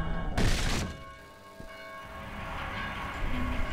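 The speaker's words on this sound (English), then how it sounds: "Please help us silence these bells." Church bells ringing in a belfry in a video game: a sharp clang rings out, then lingering metallic tones hum and fade beneath a murky, rumbling background.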